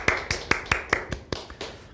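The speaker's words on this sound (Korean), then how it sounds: "제가 대표로 박수하겠습니다." A pastor at a university chapel service claps alone, eight or nine crisp, evenly spaced hand claps close by, slowing slightly toward the end.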